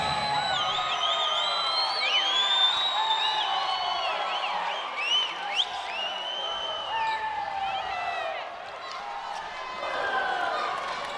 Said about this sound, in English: Villanueva got the crowd pretty excited with that block shot that went out